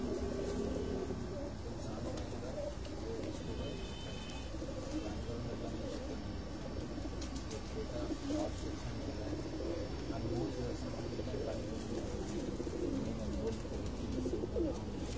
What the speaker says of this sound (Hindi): ये कबूतर माशाल्लाह से इन्होंने रखे हैं